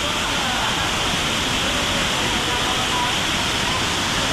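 Daranac Falls in Tanay, Rizal, swollen after a storm, roars in a loud, continuous rush of water close by, with a voice faintly heard beneath the torrent.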